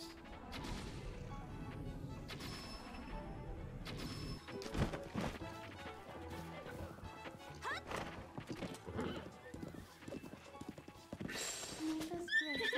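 Galloping hooves clatter steadily along in the video game Horse Catcher, with a horse whinnying, scattered heavy thuds and crashes, all fairly quiet and continuous.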